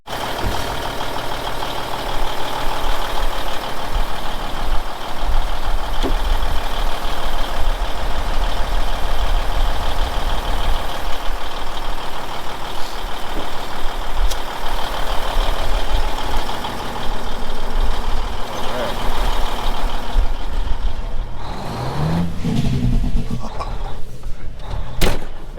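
The diesel engine of a 1996 Freightliner FLD120 semi truck rumbles steadily and loudly from inside the cab during a test drive, with a broad droning roar throughout and some clunks near the end.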